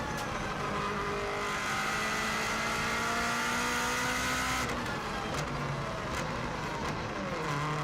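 A Subaru WRX STI hillclimb car drives at the Isle of Man, its engine a loud, continuous close drone that holds a steady pitch and then shifts as it works up through the revs.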